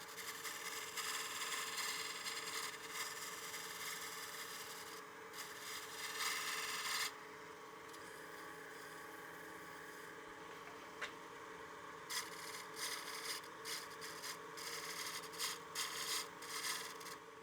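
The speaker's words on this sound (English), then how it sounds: "So we'll need to resand this top part of the rim" Sandpaper rubbing against the rim of a spinning partially seasoned wooden bowl on a lathe, a continuous soft abrasive hiss with a steady motor hum beneath and shifting pressure, no talking.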